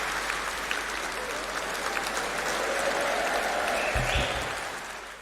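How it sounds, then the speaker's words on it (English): An audience claps and cheers after a singing performance at a live show, a steady, full round of applause that swells and holds, then tapers off toward the end. "give it a big, big cheer"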